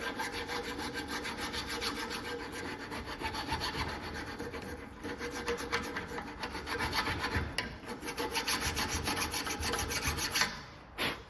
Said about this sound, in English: So we're just going to take a little file.